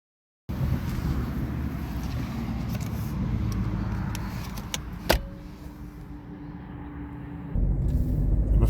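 A 2006 Honda Jazz 1.4 i-DSI Sport sets off for a drive: a quiet, steady engine rumble inside the car, with a few small clicks and a brief sharp knock partway through.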